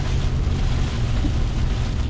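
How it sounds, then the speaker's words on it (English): Heavy rain and wind buffeting a 2021 Ford F450 pickup on water-filled roads: a loud, steady roaring wash of low rumble and broadband noise with no breaks, no talk. "the rain is really picking up now. So far the wind's not too bad, but the rain is definitely filling the roads full of water"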